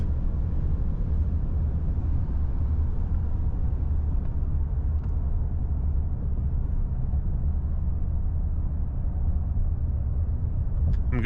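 A 2025 Ram 2500 pickup with a Cummins diesel pulls at partial throttle, heard as a steady, heavy low rumble from inside the cab that holds evenly throughout.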